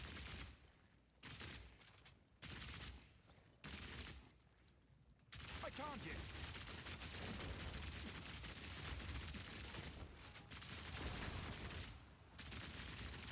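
Grenades fired in a video game, heat-boosted, burst in a dense, rolling barrage of booms and crackling gunfire, with bursts separated by short quiet gaps early on, then a continuous loud stretch.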